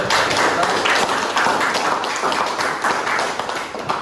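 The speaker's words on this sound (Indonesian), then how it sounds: "tepuk tangan untuk kelompok saya" Applause for a student group after a poster presentation on traditional customs: close, brisk hand clapping from a small audience, steady and slightly fading toward the end.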